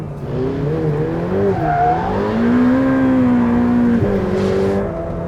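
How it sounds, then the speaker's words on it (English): A supercar engine fitted with an Inconel exhaust revs out close by in long rising sweeps, pausing briefly between gears, then climbs again with a hard, steady tone and no talk. "I love the way the engine revs out. That Inconel exhaust gives us a better sound."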